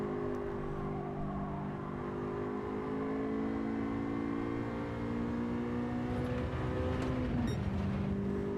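In the Gran Turismo 7 racing game, a car engine is revved high through the gears toward 8,500 RPM, a loud, continuous buzzing whine that climbs slightly in pitch before dropping near the end.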